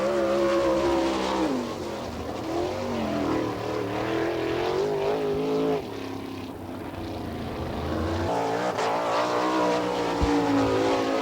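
A 305 sprint car screams around a qualifying lap on a dirt oval, the engine howling and wavering in pitch through the turns, briefly easing off before pulling hard again.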